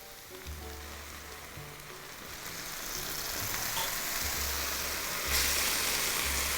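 Sauerkraut sizzles in a pan after cooking liquid is poured in, a steady crackling fry that grows louder and brighter toward the end, with a low hum from the stove underneath.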